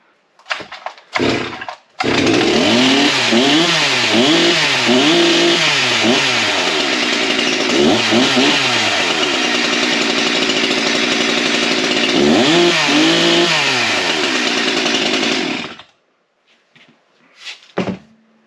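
G366 clone chainsaw starting after a couple of short pulls, then running for about thirteen seconds with several sharp revving surges over a steady buzzing idle, before it cuts off and goes quiet.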